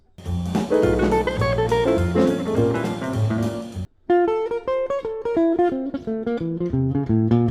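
Jazz guitar phrase from the end of an A section of a solo, with clear picked notes and octave-like lines, a dense chordal passage and then a brief break and a brighter single-note run, played alone.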